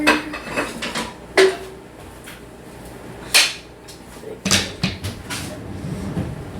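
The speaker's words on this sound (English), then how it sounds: "now I'm just going to take these out of pans" Coffee cake muffins being knocked and lifted out of metal baking pans, with a handful of sharp clanks and clatters of the pan spread across a few seconds, close up and with no talking.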